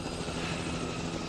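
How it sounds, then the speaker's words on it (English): Helicopter in The Last of Us video game, a brief, steady, fairly faint rotor drone with a dense rumbling roar and no clear beat. "That's a chopper."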